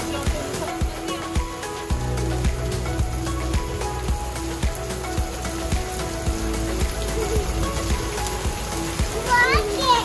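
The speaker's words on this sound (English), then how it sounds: "I like the rain." Rain patters on surfaces with scattered drips while children talk and call out over it, close by and lively.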